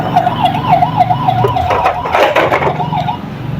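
A red toy fire truck sounds a loud, close electronic wailing siren that warbles quickly up and down over a motor whir, with no voices.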